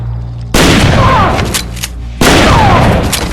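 Two loud, sharp gunshot blasts in a film action scene, each followed by a ringing, echoing tail, spaced about a second and a half apart.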